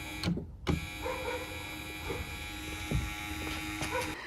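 An electric window motor from a Skoda Rapid rear door whirs steadily for several seconds, a close mechanical buzz broken by a few clicks and knocks.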